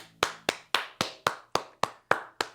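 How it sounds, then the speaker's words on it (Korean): A small church congregation claps at the close of Sunday worship, nine sharp, evenly spaced hand claps in a slow steady rhythm, clear and fairly close with faint ringing between beats. "오늘도 우리 예배를 받으신 하나님께 우리 다시 한번 영광의 박수 올려드립시다"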